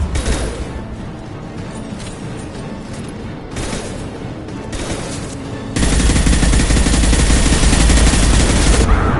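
Heavy automatic gunfire from the Mass Effect 2 video game: loud, dense and continuous volleys with overlapping rapid shots that swell even heavier toward the end.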